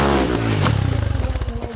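A dirt bike engine on a hill climb attempt roars loud and close, then breaks into a rapid stuttering putter as the revs fall away.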